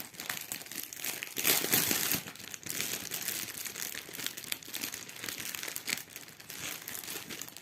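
Crinkly plastic packaging around cross-stitch fabric is torn open and crumpled up close, with a loud burst of rustling early on followed by steady, irregular crinkling and handling noises.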